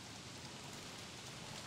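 Steady rainfall in the video game Don't Starve Together, a constant broadband hiss of falling drops that keeps up evenly throughout, with no voices over it.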